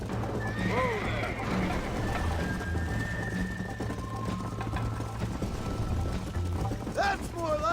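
A horse in Red Dead Redemption whinnies and clip-clops along, with a couple of rising neighs standing out over steady hoofbeats and outdoor ambience, while someone talks to the animal throughout.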